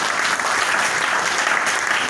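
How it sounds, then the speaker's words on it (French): Steady audience applause at a NeoLife health and business gathering, dense and continuous clapping filling the whole stretch with no pauses. "Est-ce qu'on peut applaudir pour Neolife?"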